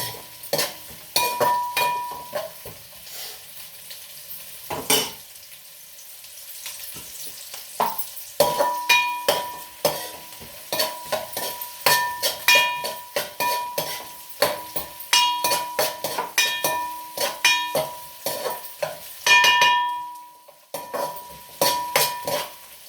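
Onions frying in oil for Telangana-style bagara rice, with busy stirring: constant clinks and scrapes of a metal spoon on the pan over a low sizzle, close up, with no talking.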